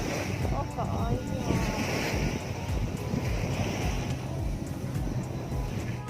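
Sea waves washing onto a shore, a steady broadband roar with wind buffeting the microphone, continuous and fairly close, with people chatting faintly in the background.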